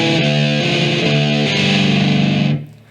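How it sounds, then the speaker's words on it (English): A distorted electric guitar plays a riff without palm muting, open, ringing notes that sustain and blend, loud and close, then cut off near the end. "So that should look like this without any palm mutes."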